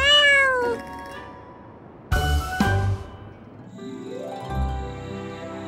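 A cat meows several times: a clear, drawn-out meow opens, then sharper short calls in the middle, and a rising meow near the end, close and loud with no talk.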